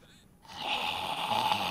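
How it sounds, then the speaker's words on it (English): A cartoonish snore from a drunk pirate character in the video game Sea of Thieves, a loud rasping, droning breath that starts after a short pause and holds steady, close and alone. "Why did I snore like that?"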